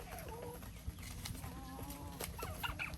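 Chickens in a rural Thai garden plot of about one rai cluck on and off nearby, with several overlapping calls against a low outdoor background and no talk.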